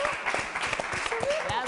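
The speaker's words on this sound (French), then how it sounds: "Les amis, il fallait applaudir." An audience claps together after a performance, a dense patter of applause that continues throughout while a voice carries on over it.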